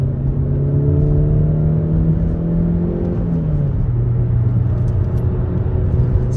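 A Mazda CX-30 with a naturally aspirated petrol engine is pushed hard, its engine note climbing loudly toward high revs before a shift drops the pitch, and it keeps pulling with a strong, close road rumble from inside the cabin.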